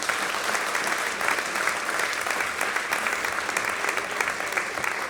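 Steady applause from a concert audience at an Armenian music performance, dense rapid clapping sustained throughout, close and fairly loud with faint crowd murmur beneath.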